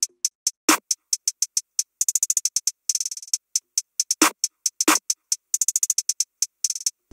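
Programmed FL Studio drum pattern of clap and snare layered with hi-hat: rapid ticking hats with quick rolls and triplet bursts, punctuated by occasional heavier clap-snare hits, played alone.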